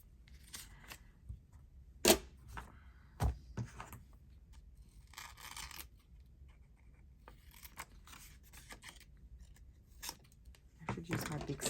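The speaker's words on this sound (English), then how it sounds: "I like my big scissors because I can cut longer things out better than the little ones." Large scissors cut through paper for craft book page tags in a few crisp snips scattered among quiet rustling and handling sounds, close and fairly faint, with a person talking at times.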